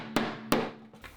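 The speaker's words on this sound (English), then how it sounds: "but I need a hammer first." A hammer striking a KeyKeg liner, two sharp ringing blows followed by a softer third hit, close and clear.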